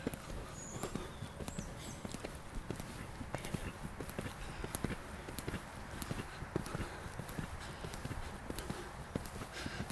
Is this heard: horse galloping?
yes